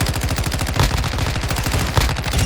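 Rapid automatic fire from a 7.62 rifle in a first-person shooter video game, a dense, loud, continuous burst of evenly spaced shots with no speech.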